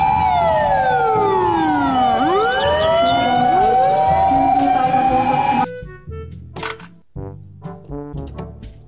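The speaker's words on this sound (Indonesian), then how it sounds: "Mobil truk pemadam kebakaran." A toy fire truck blares a loud electronic siren that wails down and up in sweeping tones, then cuts off and is followed by sharp plastic clicks and knocks.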